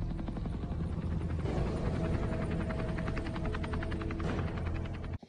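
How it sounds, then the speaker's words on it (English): Helicopter heard in a drama episode, a steady, dense rotor thump with a low droning engine, loud and continuous throughout, ending abruptly. "helicopter."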